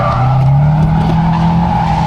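Drift cars sliding at a track, loud sustained tire squeal with a screeching tone over roaring engines, close and continuous throughout.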